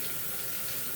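Tap water runs in a steady, hissing stream over an English hothouse cucumber held under the faucet for a quick rinse, close and constant with no pauses.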